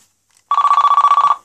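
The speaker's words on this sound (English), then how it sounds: "You probably just get the standard Motorola ringtone" Standard Motorola ringtone on a British Telecom brick mobile phone, an emerald-coloured handset: a single loud, close electronic trill pulsing rapidly for about a second after a brief quiet start.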